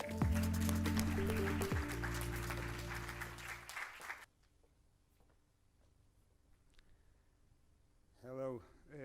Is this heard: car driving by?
no